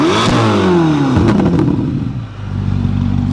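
Chevrolet C8 Corvette ZR1 engine in Z mode blipped hard once, its pitch shooting up and falling away in a sharp, close, loud rev before settling into a deep idle rumble.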